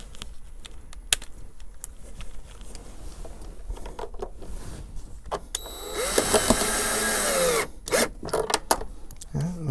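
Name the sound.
power drill driving self-tapping screw to mount extinguisher on VW Beetle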